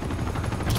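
Rapid automatic gunfire from the video game Uncharted 2: Among Thieves, a dense, continuous stream of shots filling the whole moment at steady loudness with no pause.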